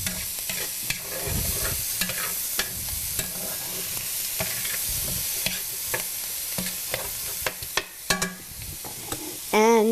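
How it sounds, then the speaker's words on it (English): Seasoned chicken with salt and cayenne being stirred in a frying pan, a constant sizzle broken by repeated sharp spoon scrapes and knocks, close and clear, with a brief voice at the end. "we're going to stir this up"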